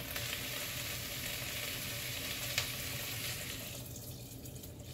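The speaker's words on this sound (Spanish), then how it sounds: "Añadimos el consomé." Consommé pours into a pot for chicken noodle soup, a continuous rushing, splashing stream over a sizzling base that thins out near the end, close and steady, with no talking.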